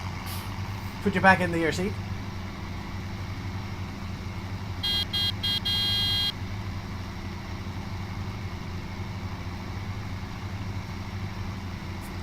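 In Farming Simulator 2017, a farm vehicle's engine drones steadily at low pitch beneath ongoing talk, with a short run of electronic beeps partway through.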